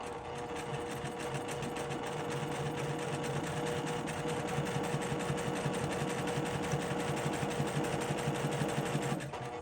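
A sewing machine chain piecing quilt pieces, running continuously with a rapid, even mechanical stitching rhythm for nearly ten seconds, close-up and quiet, with nobody talking.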